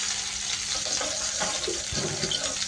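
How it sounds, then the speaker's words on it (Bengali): Steady low sizzle of garam masala whole spices, bay leaves and onion frying in oil in a pot for pilau, faint and continuous with a few soft stirring knocks. "গরম মশলা তেজপাতা দিয়ে একটু ভেজে নিয়ে একটু পেঁয়াজ দিলাম"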